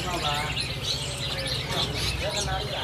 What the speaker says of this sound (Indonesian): ada juga stok burung sikatan emas